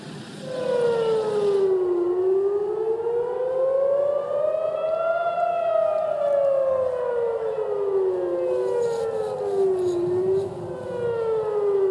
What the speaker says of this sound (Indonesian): sirene berbunyi saat rudal dicegat sistem pertahanan Israel pada Selasa dini hari waktu setempat